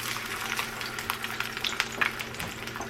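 An egg frying in a pan gives off a steady close crackling sizzle with small pops, running on without any talk.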